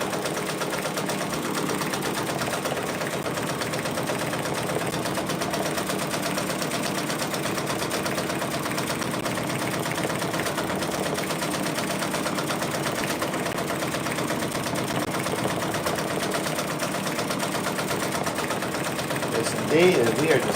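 A Brother Persona PRS100 embroidery machine stitches a patch, its steady mechanical hum and rapid needle chatter running continuously at moderate level, with a brief louder clatter near the end.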